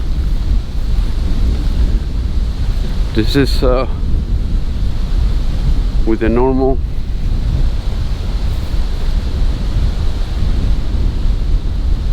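Strong wind gusts batter an unshielded GoPro 10 microphone, making a constant loud, rumbling roar, with someone briefly speaking twice over it.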